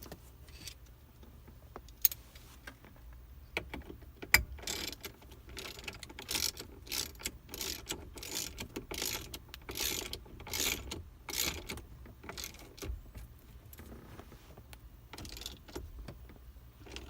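A ratchet tightens the steering wheel bolt on a 1994–2004 Mustang, making a series of close metallic clicks and short ratcheting bursts with occasional sharper knocks in between.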